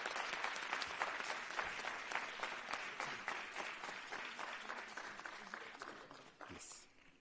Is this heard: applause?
yes